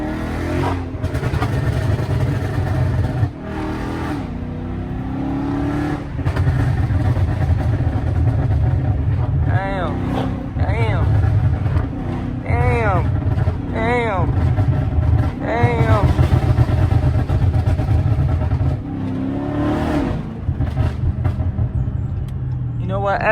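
A flame-tuned Dodge Scat Pack revs hard in repeated bursts while sliding on rain-wet roads, its engine note rising and falling between throttle blips, with voices talking over it inside the car.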